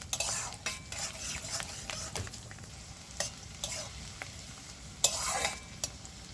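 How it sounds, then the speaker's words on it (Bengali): Chopped dried chilli, green chilli and garlic sizzle softly in a pan while a utensil scrapes and stirs at irregular moments, with no talking. "শুকনো লঙ্কা কুচানো, কাঁচা লঙ্কা আর রসুন। এই সব উপকরণগুলো আমি ভালো করে ভেজে নেব।"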